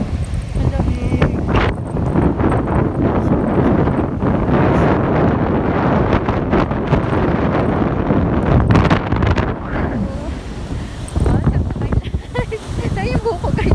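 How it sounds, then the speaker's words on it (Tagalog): Strong wind buffets the microphone outdoors in loud, continuous low roaring gusts that ease briefly near the end, with people talking over it. "Ang lakas kasi ng hangin."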